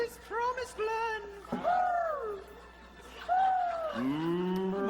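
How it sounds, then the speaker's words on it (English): Cattle moo in a series of long, drawn-out, rising and falling calls, fairly close and separated by short pauses, with nothing else heard around them. "Moo!"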